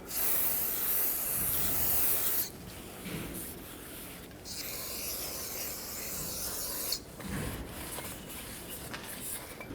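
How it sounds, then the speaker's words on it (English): Brake parts cleaner sprays with a loud steady hiss onto the rotor of a 2011-2016 Ford F-350 rear brake, followed by a rag rubbing and scraping across the metal, with quieter spray bursts later. "Use brake parts cleaner and a clean rag and clean this off."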